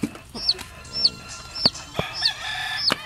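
Chickens in a yard with a rooster give short, repeated calls, sharp squawky bursts about every half second, loud and close over a quiet background.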